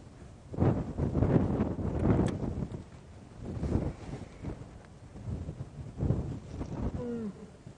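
Strong wind buffets the microphone on an evening safari game drive, a continuous low rumble rising in several loud gusts, with faint tonal calls near the end, likely a lioness.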